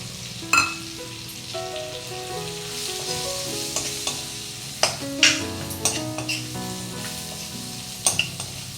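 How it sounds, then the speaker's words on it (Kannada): Ridge gourd sizzles as it fries in a pan with turmeric and is stirred, a soft steady crackle broken by several sharp spoon scrapes and clanks against the pan, with no talking. "ಸ್ವಲ್ಪ ಫ್ರೈ ಆಗಲಿ"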